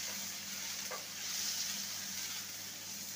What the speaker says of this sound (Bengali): আর দুটো ছোট ছোট আদা, একদমই ছোট পেঁয়াজ কুচি, ভেজে নেব হালকা।